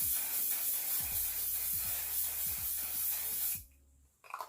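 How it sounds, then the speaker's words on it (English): One Size On Till Dawn setting spray, an aerosol can, hisses in a steady broadband spray for about three and a half seconds, then cuts off abruptly, leaving near silence and a faint rustle. "I can actually spray it on my face."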